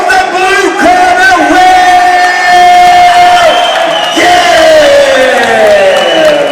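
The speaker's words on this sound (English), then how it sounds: "can we please have a big round of applause for both of our fighters" A large crowd cheers, whoops and yells loudly and continuously for two fighters after a boxing bout at Kingdom 7 Boxpark, the roar swelling and dipping without pause.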